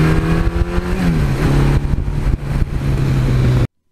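A 1982 Suzuki GS1100E motorcycle engine revving up close, a loud throaty drone with pitch rising and falling through several blips before cutting off abruptly.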